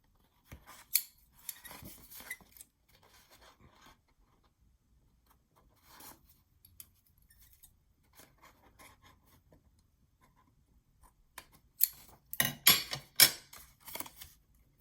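Scissors snip a paper file folder in short, crisp cuts, close by, with long quiet gaps between them. A dense cluster of snips comes near the end.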